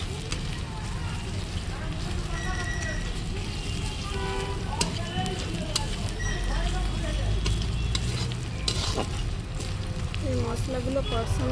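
Half a tablespoon of ginger-garlic paste sizzles in hot oil in a pan while a fish curry with furuli fish is being cooked, a steady crackling fry with scattered stirring clinks, under continuous talking.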